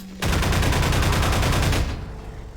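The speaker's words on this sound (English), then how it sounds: "I feel like these turrets aren't very effective." Automated turrets in Half-Life 2 fire a loud, close, rapid burst of evenly spaced shots that lasts about a second and a half, then stops and leaves a fading tail.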